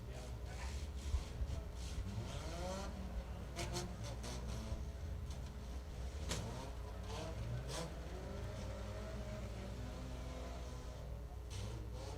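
Several compact cars idle and rev their engines at a Dixie Speedway demolition derby, a steady low engine drone with a few revving swells, heard from a distance with no talking.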